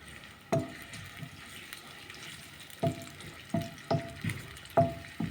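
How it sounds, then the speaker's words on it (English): Onions sizzling in hot cooking oil for jollof rice, with a steady quiet fry broken by several sharp scraping knocks of a spoon stirring the pot, fairly close. "we're going to add our onions right here, just like that, and then we stir"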